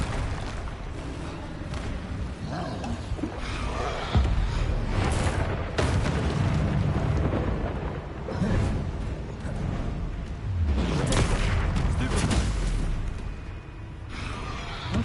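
Explosive Confringo and Bombarda spells from Hogwarts Legacy go off in heavy booming bursts amid battle noise, with a low rumble between blasts.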